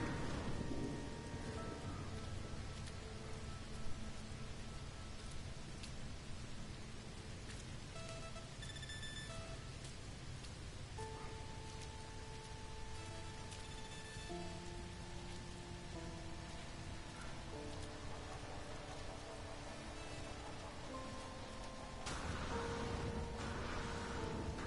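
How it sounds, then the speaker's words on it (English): Constant acid rain pours down on an alien planet in the No Man's Sky video game, a dense, steady hiss with faint low rumbles and scattered eerie synth tones drifting through the ambience, with no voices. "A planet with constant acid rain and everything on it flies."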